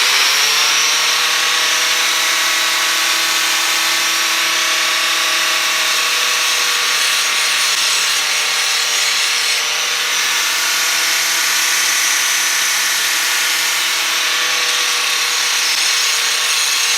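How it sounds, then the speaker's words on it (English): A power tool grinds metal in a welding shop, a loud, steady, continuous whine with a dense harsh hiss that holds unbroken for the whole stretch, with no talk over it. "I'll grind that off real quick."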